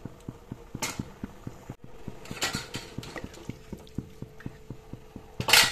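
A spoon stirs fish curry with boiled new potatoes in a metal pan, scraping and clinking against the sides in an even, repeating rhythm, close and fairly loud with a few heavier knocks.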